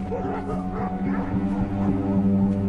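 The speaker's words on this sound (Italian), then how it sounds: "Tutti i cani." Several dogs bark and yip repeatedly over steady background noise at a villa in Sacrofano where people are working, the barks overlapping and fairly close.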